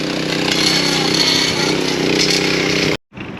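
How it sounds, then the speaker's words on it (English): A string trimmer runs loud and close in a park, a steady, continuous buzzing whine that fills the scene for about three seconds, then cuts out abruptly before a quieter background returns. "Oh, hard to talk over the trimmer."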